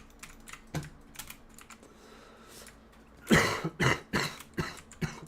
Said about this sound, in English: Yeah, my cough's bad.